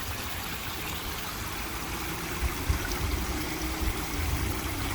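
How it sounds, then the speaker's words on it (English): Backyard waterfall spilling into a pond, a steady broadband rush of falling and splashing water, close and constant throughout with no speech. "Very black yard and a lit up waterfalls and pond."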